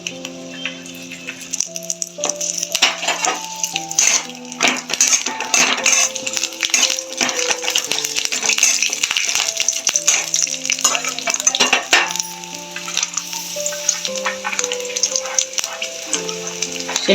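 Garlic dropped into hot oil in a pan with chillies for spicy masala brinjal, a steady close sizzle with scattered clinks and stirring scrapes throughout.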